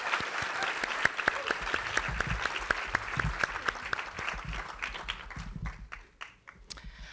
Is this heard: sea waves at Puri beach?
no